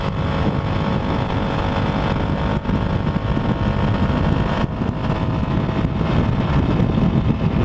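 A small motorcycle of about 25 horsepower carrying two riders, its engine droning steadily and loud beneath heavy wind rush for the whole stretch, with no talking.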